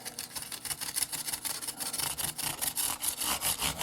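Rhythmic scratchy rubbing strokes of sanding guitar frets, worked back and forth, fairly close and steady, with no talking.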